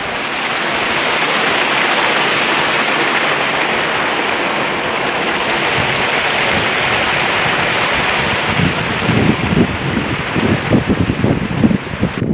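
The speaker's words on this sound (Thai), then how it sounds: "นี่เป็นน้ำตกผาสูงครับที่นู่นนั่น" The high cliff waterfall at Pha Sok, Ubon Ratchathani, gives a steady, loud, broad rushing roar, with wind gusts buffeting the microphone toward the end.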